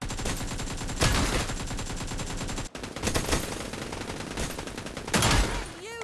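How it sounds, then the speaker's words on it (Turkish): Rapid bursts of automatic gunfire in PUBG: New State rattle continuously, with louder volleys at intervals and a brief cut in the middle, game-like and close. "Silah sesleri belki PUBG Mobile'in daha iyi olabilir."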